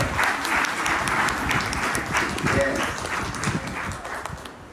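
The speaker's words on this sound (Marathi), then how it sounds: "आपण स्त्रियांकरता टाळ्या वाजूया, पुरुषांनी वाजवा" A church congregation claps together in a dense burst of applause that stays loud for several seconds and then thins out. A voice is briefly heard over it.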